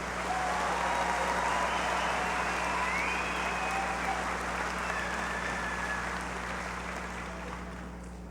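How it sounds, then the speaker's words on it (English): Applause from a crowd at a high school graduation ceremony, a dense, continuous wash of clapping heard at some distance with a steady low hum underneath, slowly fading toward the end. "Please give him another round of applause."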